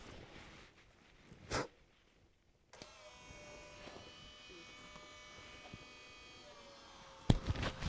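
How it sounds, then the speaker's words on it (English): An electric fuel pump on a FUSO FG truck, powered directly from a booster pack, starts after a click and runs with a steady whine and buzz for several seconds before a clatter at the end. "Placing the booster pack into override mode allows me to power the fuel pump directly."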